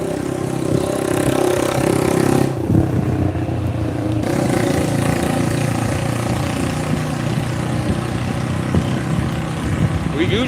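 A loud 125cc motorbike engine drones steadily nearby, with a brief drop around the third second before the rough, clattering rumble resumes and carries on.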